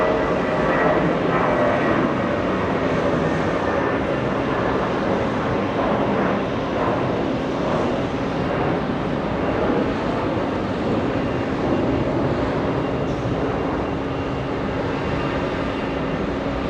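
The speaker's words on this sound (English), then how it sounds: "We have a departure, JetBlue 973," Steady broadband roar of a JetBlue jet departing John F. Kennedy International for Nashville, loud and continuous throughout with a slowly shifting engine tone.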